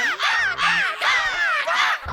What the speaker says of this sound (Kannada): ಕಾಗೆ ಕಾಗೆ ಕಾಗೆ.